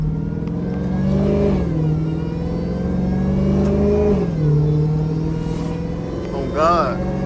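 A Dodge Hellcat's exhaust rumbles loudly up close in a sustained low drone, with revs rising and falling several times as it idles beside another car; a brief higher whine near the end.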